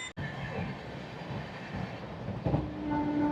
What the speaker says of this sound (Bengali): আর এই মুহূর্তে 130 তুলে দিয়েছে অমৃত ভারত এক্সপ্রেস